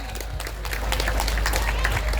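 An audience at a madrasah graduation ceremony in Pati breaks into brief applause, clapping building over a low hum and some voices.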